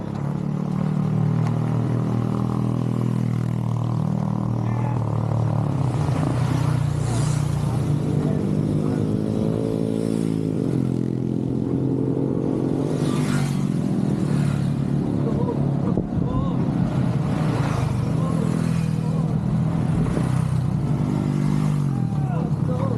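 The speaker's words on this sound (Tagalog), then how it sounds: "may motor." A motorcycle passes close by on a road in Oslob, its engine note rising and fading over steady traffic noise while people talk throughout.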